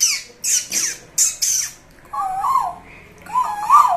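A voice imitates bird chirping and twittering, with bright squawky bursts in a quick series followed by lower warbling, whistled calls, fairly close and loud with no other talk.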